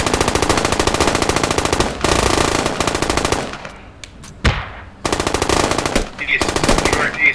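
Sustained automatic gunfire in the video game Squad, long rapid bursts of machine-gun fire broken by short pauses and a single sharp shot, loud and close.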